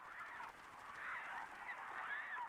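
Geese or similar migratory waterfowl calling: a flurry of overlapping honks at a moderate distance, steady and continuous with no voices.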